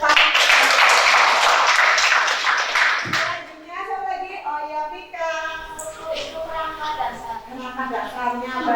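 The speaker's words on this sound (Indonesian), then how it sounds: "Kasih tepuk tangan." Students in a classroom clap their hands together in a dense burst of applause lasting about three seconds, after which a voice and other classroom talk carry on.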